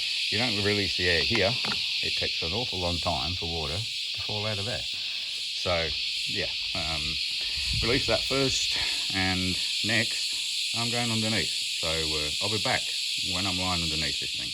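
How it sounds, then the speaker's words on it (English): Loud cicadas drone outside in New South Wales, Australia, a continuous high buzzing hiss that stays steady under someone talking throughout while working on a car radiator. "apologies for the noise outside, it's the cicadas."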